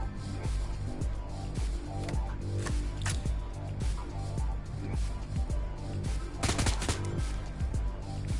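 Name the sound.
gunfire in the video game Shadowrun Hong Kong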